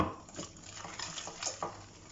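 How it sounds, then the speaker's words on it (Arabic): Spoon scraping and stirring a lemon dessert mixture in a pot as milk is added bit by bit, with soft repeated scrapes and light clinks close by, fairly quiet, no talking. "هاني صافي غنحرك هاد الشيء"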